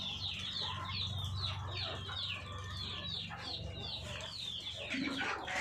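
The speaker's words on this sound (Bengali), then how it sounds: "এখন আমি মুরগিগুলো সব বের করে দিব।" Farm chickens cluck and chatter in a steady, busy stream as they are let out of the coop in the morning, with many overlapping calls nearby and a low background hum.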